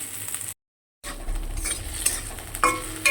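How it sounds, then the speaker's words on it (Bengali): Okra sizzling in oil in a wok, a close steady fry with spatula stirring and metallic scrapes, broken by a brief half-second cut of total silence near the start. "এটা হালকা লাল লাল ভাজা হবে,"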